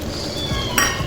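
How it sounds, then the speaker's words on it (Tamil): Tamarind water is poured into dry fish thokku in a hot pan, raising a brief close sizzle with light stirring and clinking. "இப்போ கொஞ்சம் புளி கரைச்சல் சேர்த்துக்கிற போகிறேன்."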